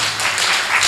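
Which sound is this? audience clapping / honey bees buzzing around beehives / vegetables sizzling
audience clapping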